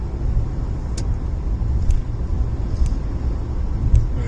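Interior of a moving car: a steady low road rumble and engine drone fills the cabin, with faint periodic ticks recurring about once a second.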